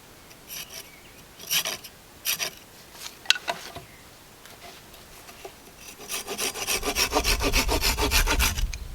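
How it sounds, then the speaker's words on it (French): Rhythmic rasping strokes of a hand saw trimming a wooden tenon, a few scattered pulls at first, then a steady fast run of sawing near the end. "vous arasez à la scie."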